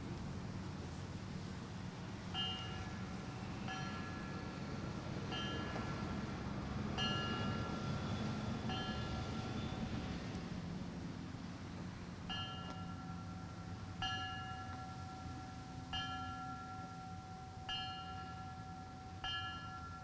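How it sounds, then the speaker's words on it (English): A round of bells rung at a September 11th memorial dedication, with clear metallic strikes repeating in a steady, evenly spaced sequence, each tone ringing briefly over a low rumble of outdoor ambience. "At this time, we have another round of bells Brendan Mitchkay will perform."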